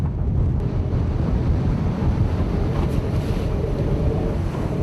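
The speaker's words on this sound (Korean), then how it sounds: "거센 파도가 배전을 집어삼킬 듯 몰아치는 바다 한가운데서" Rough ocean waves pound a fishing boat at sea in worsening wind and rain, a continuous loud roar of surf and gusting wind buffeting the microphone, with no voices.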